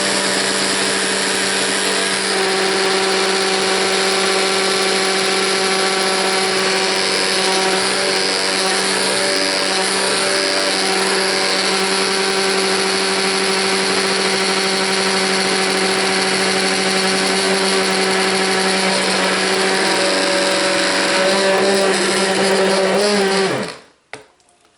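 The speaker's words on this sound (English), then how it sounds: "My stick blender is starting to get really hot." A stick blender whirs loud and continuous while mixing a batch of liquid soap made from lard, castor oil, coconut oil, lye and kombucha, running steadily for over twenty seconds before cutting off abruptly.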